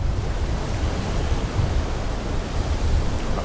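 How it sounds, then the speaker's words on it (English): Strong wind and a rough sea in a sailing video game roar as a dense, continuous wash of noise, steady and loud throughout with no voices. "It's rough out here. The wind's too strong."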